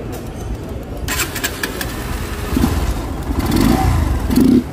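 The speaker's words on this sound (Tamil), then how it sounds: "இந்த வண்டி பாருங்கள், என்எஸ் வண்டிக்கு ஃபில்ட்ரு மாட்டியிருக்கோம்." Bajaj Pulsar NS200 motorcycle fitted with an aftermarket filter, its engine running steadily nearby and building in loudness toward the end with throaty low bursts.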